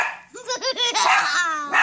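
Puppies bark in quick, high, yipping bursts close by, several sharp calls in a row with whiny rising tones.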